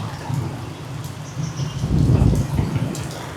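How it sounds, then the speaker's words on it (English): Steady heavy monsoon rain roars close by in Angeles City, Philippines, a dense broadband wash that swells louder midway, with no voices over it. "it's monsooning in Angeles City"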